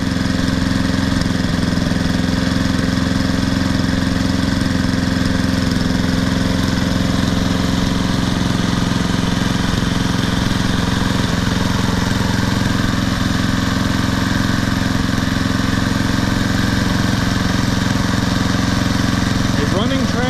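An old, rusted-out lawn mower engine pulled from the trash runs steadily and loud for the whole stretch, a constant close-up drone with no pauses.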